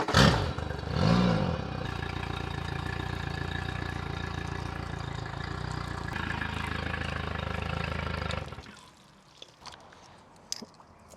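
A boat engine runs during a freshwater flush through earmuffs, idling with a steady mid-pitched clattering drone and a quick rev at the start, close and fairly loud, then cutting off abruptly near the end.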